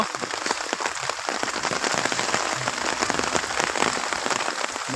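Steady rain pours down with gusting wind over jute fields in the Faridpur area, a dense, even hiss of drops that continues without a break and without voices.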